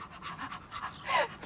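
A child imitates a dog panting in summer: quick, breathy, rhythmic huffs, close up, swelling into a louder burst of breath at the end.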